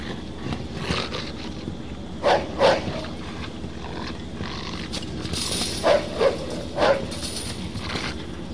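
A dog barks in Mafia 2, in two clusters of two or three sharp barks each, over a steady cold outdoor ambience, moderately near.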